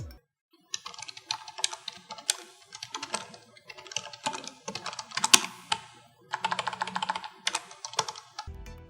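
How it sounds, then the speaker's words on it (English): A budget full-size wireless retro keyboard is typed on in close, crisp bursts of clacky keystrokes, broken by short pauses, with one sharper key hit partway through and no talking. "Now here is a sound test while typing on it."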